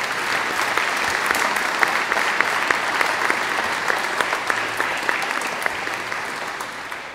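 A congregation at a farewell Mass in St. Thomas Aquinas parish church breaks into sustained, even applause, many hands clapping close by with no voices over it.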